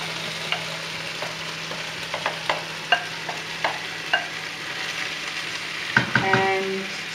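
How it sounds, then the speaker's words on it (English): Cooked vegetables tipped back into a hot fry pan full of beef juices sizzle steadily, with a series of sharp utensil taps and clacks against the pan and a brief louder clatter near the end. "back into the fry pan with all the juices, and I'm going to add the vegetables that we cooked earlier on."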